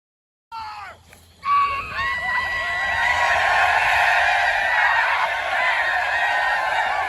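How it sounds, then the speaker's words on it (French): A battle charge by Confederate soldiers in the American Civil War, with a shrill, wavering chorus of massed yells and screams that rises abruptly and keeps going loudly, like a crowd shrieking together. "C'est Jackson qui demande à sa brigade de charger en poussant des cris et des hurlements à glacer le sang des"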